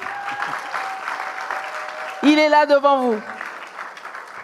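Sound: audience applause for film director Cheick Doukouré

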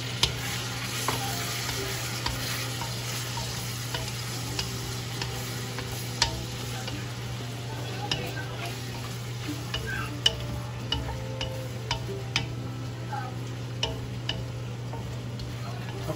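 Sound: shrimp frying and being stirred in pan for pancit guisado

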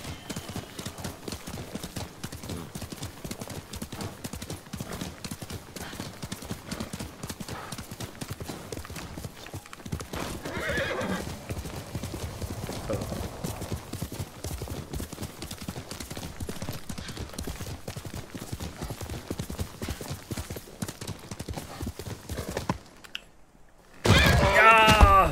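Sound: horse hooves and neighing in the video game Ghost of Yōtei

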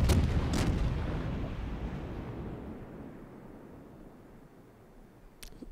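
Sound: naval gunfire in World of Warships video game

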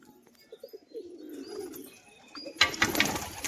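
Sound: pigeons cooing

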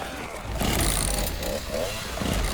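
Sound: chainsaw enemy revving in Resident Evil 4 Remake video game

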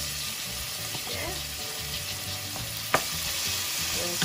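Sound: ground chicken sizzling in pan

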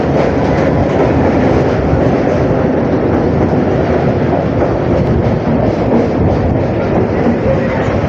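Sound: train running on tracks near Kalinarayanpur

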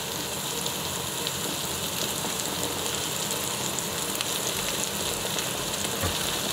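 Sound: sucuk slices frying in a pan

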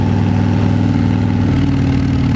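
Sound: Harley-Davidson Fat Bob engine braking through exhaust pipes

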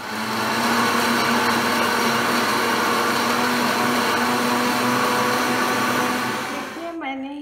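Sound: electric mixer grinder grinding almonds

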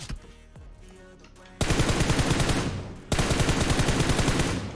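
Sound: gunfire in video game PUBG Mobile

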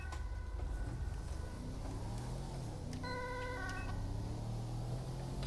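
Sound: fire vehicle siren in video game GTA 5

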